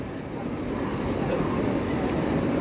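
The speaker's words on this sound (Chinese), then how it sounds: "有列高铁列车进站哦" A Taiwan High Speed Rail train pulls into the platform at Taipei station with a steady, broad rumble of wheels and rushing air, fairly loud and continuous, with no clear talk over it.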